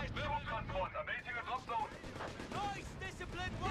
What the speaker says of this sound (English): The artillery going in there.